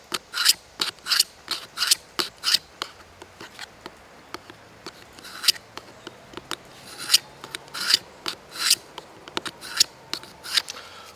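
A Husky knife edge ground against a sharpening rock, giving repeated short, rasping strokes in an irregular rhythm, close and fairly clear, with no talking.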